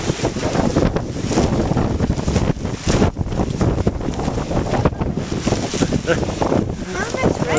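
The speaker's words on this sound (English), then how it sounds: "As I said, it's been a little windy down here." Gusty outdoor wind batters a microphone continuously during tipi packing, a dense loud rumble with brief dips between gusts.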